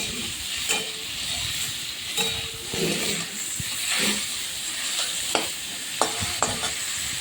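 Chicken and beans gently stirred in a pan over a very low flame, a steady close hiss of frying beneath occasional light scrapes and taps of the spoon.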